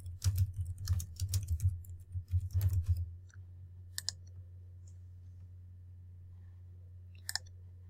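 A computer keyboard clatters with quick, close typing for about three seconds, then a steady low hum remains with a couple of isolated clicks, as a title is entered into a library search.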